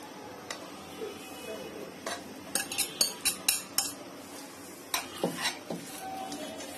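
Egg yolks being mixed into chocolate batter for a stovetop Japanese chocolate cotton cake, with a run of sharp clinks and taps of a utensil against the bowl, clustered mid-way and again near the end, close and fairly quiet.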